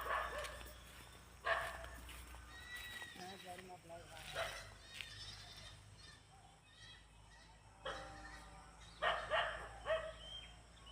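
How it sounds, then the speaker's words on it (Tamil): A dog barks in short scattered bursts around a rural coconut grove, mixed with bleating-like animal calls and people talking nearby. "நாய்"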